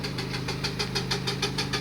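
A miniature steam engine runs with a steady, rapid rhythmic chuff and knock over a low mechanical drone, heard close and alone.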